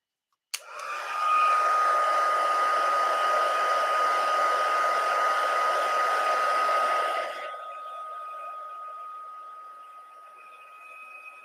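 Heat tool melting embossing powder: a click, then a steady, close whooshing blower hum that drops to a lower, quieter whir toward the end.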